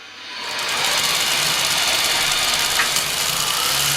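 Tamiya Actros 3363 1/14 Mercedes-Benz 6x4 Gigaspace RC truck sound unit producing a steady simulated diesel engine drone with a faint knock, shifting through low, middle and high gears, loud and close with no talking.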